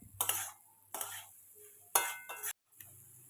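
Fried potatoes and soya chunks are stirred into masala in a pan, a few separate bursts of scraping and clinking from a utensil with short pauses between, over a faint sizzle.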